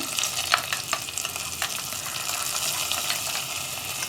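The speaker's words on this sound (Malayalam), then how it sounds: "അപ്പോൾ ഞാൻ ഈ വറവ് കറിയിലേക്ക് ചേർക്കാണ്." A fried onion tempering goes into a tomato curry and sets off a steady, loud sizzle and bubbling close by, with a few scrapes and clicks on top and no talking.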